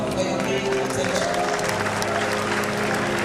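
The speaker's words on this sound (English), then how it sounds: "A round of applause for Madam Vice-Chancellor." A large audience at a university convocation claps in a dense, sustained roar of applause, with a voice faintly audible through it.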